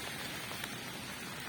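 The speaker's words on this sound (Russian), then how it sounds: "Вот видите, какой ливень." Heavy rain pours down steadily outdoors in a windy storm, a dense, constant hiss of drops striking surfaces and an umbrella, loud and close with no speech.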